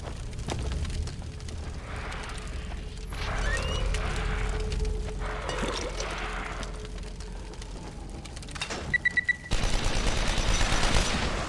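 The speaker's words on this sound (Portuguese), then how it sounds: "Ele ativou a metralhadora." A machine gun fires in The Evil Within, heavy sustained bursts of gunfire rolling over a rumbling background, with a sharp rapid cluster of shots near the end and a loud final barrage.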